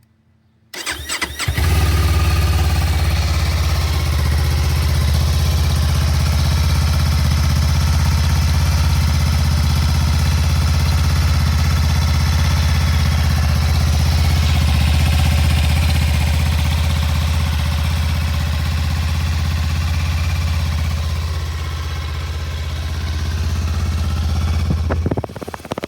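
A 2024 Kawasaki Ninja 500 SE on its stock exhaust cold-starts and settles into a loud, steady, close-up idle that holds evenly for about 25 seconds.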